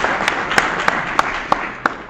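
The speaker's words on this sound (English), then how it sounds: "May we please have another round of applause for them." Audience applause after a performance at a school award ceremony, with a steady wash of clapping and a few sharper individual claps standing out, moderately loud and without talk.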